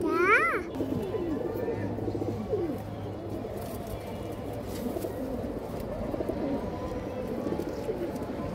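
Pigeons coo and murmur in a loft of high-flyer pigeons, a low warbling bird chatter that runs steadily throughout, with a brief higher call at the start and someone talking over it.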